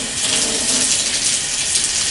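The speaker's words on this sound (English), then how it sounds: "Rinse your fingers, rinse the brush," Tap water gushes steadily into a sink while hands and a nail brush are rinsed, a loud, close, continuous splashing flow.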